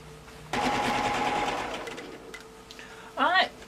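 A sewing machine quilting with variegated thread runs in a fast steady whir for about two seconds, slows and stops, then gives another short burst under a voice.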